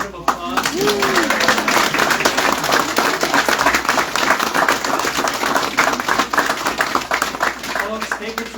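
A small gathering at a family home dedication breaks into loud, dense applause right after a prayer, sustained clapping from many hands with a few voices mixed in.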